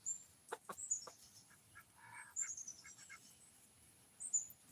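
Chickens cluck in short scattered bursts outdoors at a ranch, several soft calls at middle distance over a quiet background, with no speech.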